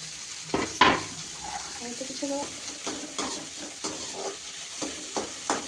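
Carrot, capsicum and tomato stir-frying in a pan, a close sizzle with a sharp clatter near the start and repeated rhythmic scrapes of stirring, alone without speech.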